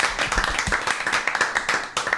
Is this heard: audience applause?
yes